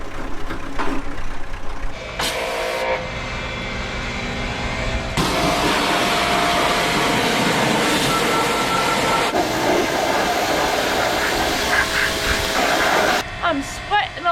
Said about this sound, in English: We're pressure washing the engine bay of the Banana.